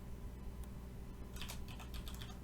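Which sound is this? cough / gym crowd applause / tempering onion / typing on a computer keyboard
typing on a computer keyboard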